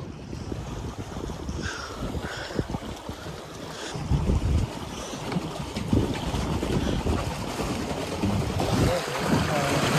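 A small paddle boat rocks on a choppy Jamaican sea, with steady wind buffeting the microphone and water sloshing and slapping against the hull throughout.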